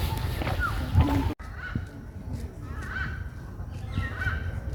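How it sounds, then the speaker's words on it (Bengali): Birds call among casuarina trees in a botanical garden, short honking and cawing notes repeating at a moderate distance over low ambient noise after an abrupt cut. "ওই যে দেখেন, পাখি ডাকতেছে"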